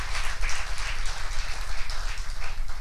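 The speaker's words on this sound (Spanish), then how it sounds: "Démosle un fuerte aplauso" A church congregation gives a full, dense round of applause that holds steady and loud throughout, with no voices rising above the clapping.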